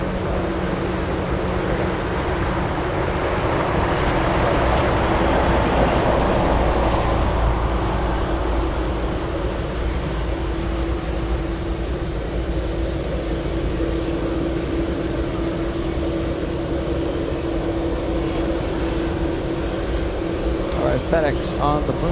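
A FedEx MD-11 taxiing at Anchorage airport gives a steady, distant jet engine roar with a broad swell of rushing noise that peaks early, then settles into a level drone.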